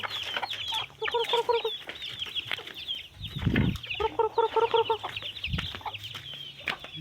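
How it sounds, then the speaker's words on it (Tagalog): Chickens cluck in quick repeated bursts nearby, with rhythmic clucking phrases over a busy outdoor background of other bird calls. "Ang chicken po guys."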